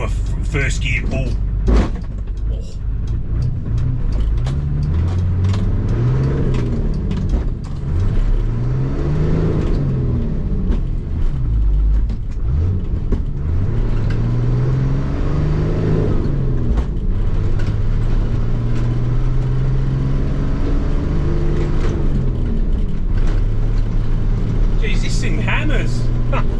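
A non-turbo auction truck makes a first-gear pull: the engine rises and falls in repeated revving sweeps as it accelerates and shifts, heard from inside the cab, with people talking over it.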